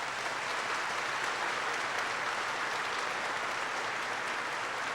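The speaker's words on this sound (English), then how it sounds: "I would ask you again to join me in a round of applause for these students" A graduating class at the 2006 Wadsworth High School commencement gets a round of audience applause: a dense, steady roar of many hands clapping that holds at even loudness for the whole stretch, with no voices standing out.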